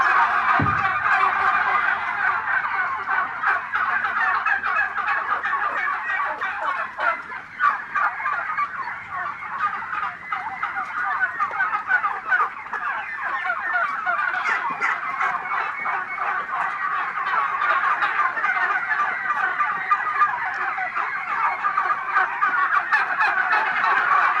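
A flock of farm-raised turkeys gobbles continuously in a dense, overlapping chorus, loud and close, with rapid burbling calls throughout.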